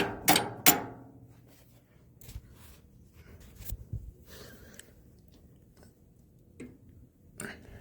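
Two sharp metallic hammer strikes ring out close by at the start while fitting a parking brake on a Ford NAA Jubilee tractor, followed by quieter scattered taps and knocks.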